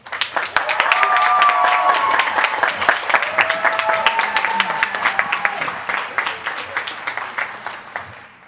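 Sustained audience applause welcomes Dean Kristi Jobson to the stage at a staff appreciation award ceremony, dense steady clapping that swells early and gradually thins, with cheering voices mixed in.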